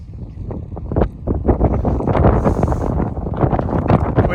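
Strong, cold wind near the Arctic Circle buffets the microphone with a loud, continuous low roar and gusty fluttering; no one speaks.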